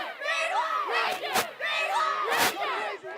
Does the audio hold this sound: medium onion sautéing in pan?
no